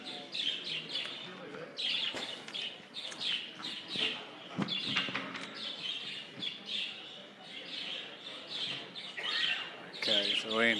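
Budgerigars chirp and twitter at a national budgerigar show in Cairns, Queensland, a continuous chatter of many small birds with occasional louder squawks, fairly faint and distant throughout.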